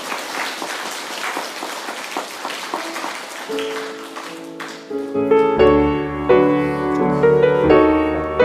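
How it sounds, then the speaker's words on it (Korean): A church congregation in Korea applauds to welcome newly registered members during a Sunday service, a steady round of clapping that fades before music and singing begin. "우리 박수로 환영하도록 하겠습니다."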